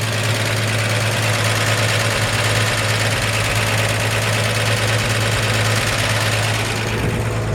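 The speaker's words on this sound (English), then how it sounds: "Nice smooth running engine." A 1954 Chevrolet 3100 five-window pickup truck engine idles smoothly and steadily with a constant low rumble. The sound is close and alone, without any voices.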